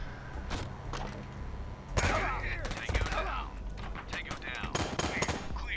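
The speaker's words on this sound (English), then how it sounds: "Oh, he's getting shot at from behind." Video game gunfire from Door Kickers, bursts of rapid shots and sharp single cracks over a background hum, with someone talking over part of the action.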